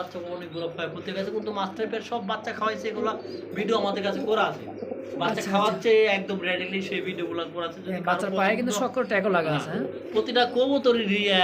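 Large, high-quality club pigeons coo repeatedly with soft throaty calls and a few chirps, close by, while people talk over them nearly throughout.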